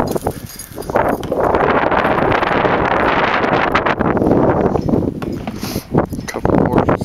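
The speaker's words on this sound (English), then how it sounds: "A couple of horses here." Horses on a horse farm on a windy day, with steady broadband wind noise buffeting the microphone throughout and faint clip-clop or movement sounds mixed in.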